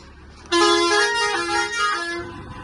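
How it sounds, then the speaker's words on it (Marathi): Pickup truck horn on a highway drive, one loud sustained honk close by, steady for about two seconds against a low road rumble. "हॉर्न वाजव हॉर्न हा हॉर्न वाजव"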